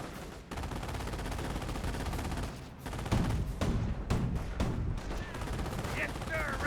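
In a Company of Heroes 1 match of US against Panzer Elite, gunfire crackles in steady overlapping volleys with machine-gun bursts, growing heavier midway, while in-game voices call out beneath the shooting.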